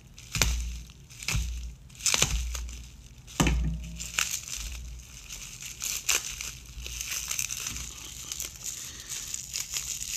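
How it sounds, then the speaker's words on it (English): Foil packaging of a David Blaine white Gatorback playing card deck being torn open and crumpled, with loud, close, irregular crinkling bursts and tearing rustles throughout. "this is them in the foil. I'm gonna open them right now"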